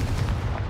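A Confringo spell blast from Hogwarts Legacy comes as one brief, dense, close burst of booming, crackling noise with no talk.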